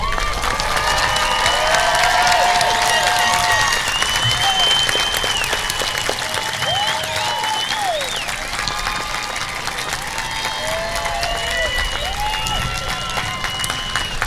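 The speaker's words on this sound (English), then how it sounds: "Let's give them one more big round of applause" A large crowd at a high school graduation ceremony applauds the graduates with sustained clapping and some cheering, while an amplified voice talks over it throughout.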